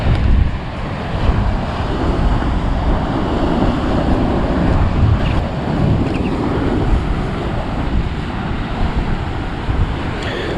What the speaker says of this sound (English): here come the waves